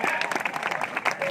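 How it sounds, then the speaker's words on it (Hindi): A crowd claps at the stage of the Gangaur fair in Kathumar, a brief burst of applause, loud and close, with voices mixed in. "तो तालियां बजा के बताओ यार"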